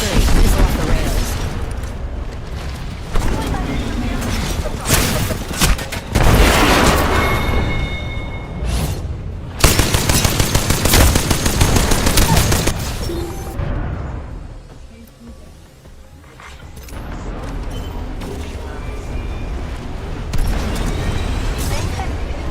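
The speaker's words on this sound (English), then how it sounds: "Fox 3, missile off the rails." A video game missile launch comes as a loud whooshing roar and rumbling booms that stay dense and continuous, with bright bursts throughout. A voice talks over much of it.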